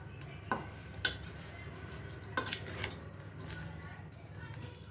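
A spoon stirs and mixes food in a pot with a few distinct clanks against the metal and soft scraping in between, quiet and close, with a voice talking over it.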